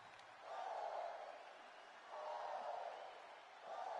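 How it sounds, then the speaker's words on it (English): A crowd in the WWE 2K25 wrestling video game chants in rising and falling waves, three swells of massed voices roaring woo together, fairly distant and faint. "The crowd is behind Bird Girl. You hear the woo, woo."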